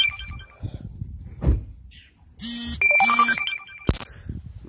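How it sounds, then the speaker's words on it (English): A phone ringtone sounds in two loud electronic bursts, close by, in an otherwise quiet space with faint background noise. "My phone's going off."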